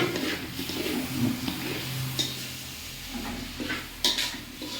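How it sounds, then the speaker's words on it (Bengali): Rice fries in a pot for an office biryani, a soft steady sizzle with occasional scraping stirs and utensil knocks close by. "এখন চাউলটা ভাজা নেব।"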